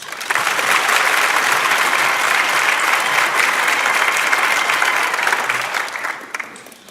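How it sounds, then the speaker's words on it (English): A large commencement audience at Northland Pioneer College applauds in a long, dense, steady wave of clapping that holds strong for several seconds before tapering off near the end, with no talking over it. "If you could please join me in a round of applause for all these people mentioned."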